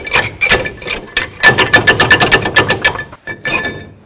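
Brake rotor on a 2000-06 Chevy Tahoe's rear brakes being pried and wiggled loose with two screwdrivers, close, loud rhythmic metallic scraping and clanking in quick repeated bursts with a short pause near the end.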